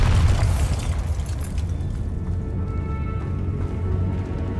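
A Bombarda explosion spell goes off in Hogwarts Legacy, a loud booming blast with a deep rumbling burst up front that decays into a sustained low roar.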